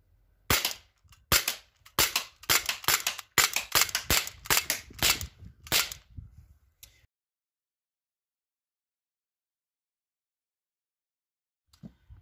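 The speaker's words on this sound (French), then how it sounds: "on vise bien et on tire." Air pistol shots fired one after another, roughly ten sharp, close snapping reports in an uneven rhythm, then a long silence and one last shot near the end.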